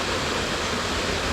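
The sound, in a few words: waterfall in the Chicosa gorge, Auvergne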